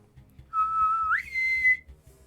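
A single person whistles a sustained clear tone that bends upward in pitch partway through, then holds steady before cutting off, close and fairly loud over a faint low background rumble.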